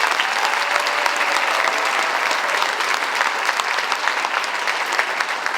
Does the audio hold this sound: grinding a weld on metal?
no